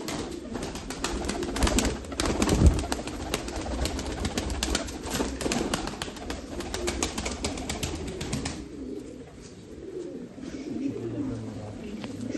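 Female pigeons in a fancy-pigeon loft coo softly and repeatedly, a low rolling murmur that runs steadily throughout with a few louder close calls near the start.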